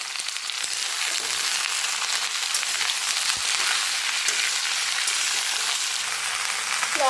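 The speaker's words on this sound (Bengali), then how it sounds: "এখন আমি যেই সবজিগুলোকে আগে কেটে রেখেছিলাম সেই সবজিগুলো এর মধ্যে দিয়ে দেব।" Steady, loud sizzling of cut winter vegetables frying in spiced oil for a spinach dish, a continuous close crackle with a few faint clinks, no talking.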